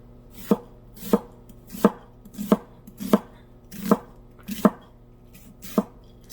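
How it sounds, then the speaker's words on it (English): A knife cutting a yellow onion into quarter-inch strips on a board, eight sharp evenly spaced chops about every two-thirds of a second, close and crisp with quiet between strokes and no talking. "I said we're putting these in strips about 1/4 inch. So I am going to start with the onions"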